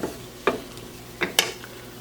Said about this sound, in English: Let's stir around to distribute the flavors.